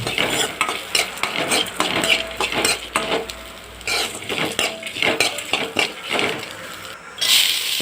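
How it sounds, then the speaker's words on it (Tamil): Fenugreek seeds dry roasting in a pan for sambar, with repeated scraping and stirring clatter of a utensil against the metal, a soft sizzle beneath and a brighter clink near the end, close and alone without talk. "கடைசியாக வெந்தயம் போடுறேன் போட்டு நல்லா வறுத்துக்க"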